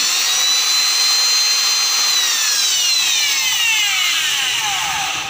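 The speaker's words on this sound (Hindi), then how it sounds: "ये होल मार के ड्रिल मशीन के थ्रू हम इसको होल मार के लेंगे पूरा डीप तक" An electric drill bores a hole while a car testing light is being made, giving a loud, steady high whine whose pitch slides gradually downward as the bit works, heard alone without talk.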